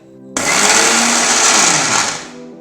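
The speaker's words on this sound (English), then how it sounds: "We'll grind it to a finer texture." Roasted coarse foxtail millet rava whirs loudly in a blender jar, a steady high grinding roar that starts abruptly and runs for about two seconds before winding down.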